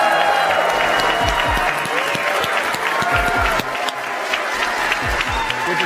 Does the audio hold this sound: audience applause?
yes